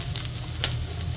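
Onion and garlic sizzle in a hot pan, a steady, close frying hiss with light stirring clicks, no voices.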